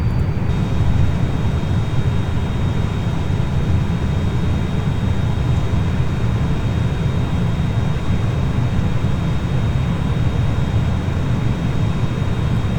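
Vickers VC10 jet airliner coming in to land in a flight simulator game, a loud, steady roar of jet engines with broadband rushing noise that holds constant throughout.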